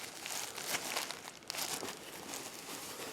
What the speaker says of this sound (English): It's like a real movie grade tunic with the Velcro closure. So you can rip it open.